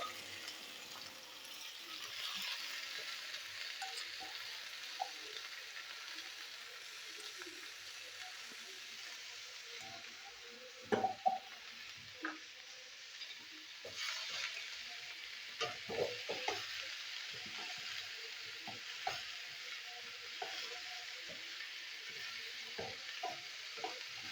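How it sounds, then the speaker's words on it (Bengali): Shredded cabbage frying in oil with black cumin and dried chillies for posto bhaja: a steady, moderately quiet sizzle with scattered spatula scrapes and clacks that bunch up around the middle. "তেলে কালো জিরে আর শুকনো লঙ্কা ফোড়ন দেবো। এবার দিয়ে দেবো বাঁধাকপি।"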